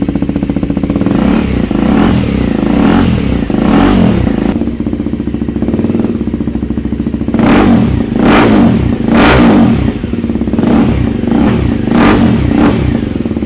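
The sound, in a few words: Kawasaki ZX6R motorcycle revving with decat exhaust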